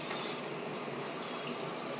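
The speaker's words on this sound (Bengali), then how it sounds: "এই জল পড়ছে কিচেনে" Water pours steadily from a kitchen tap, a continuous close splashing gush with no other sounds.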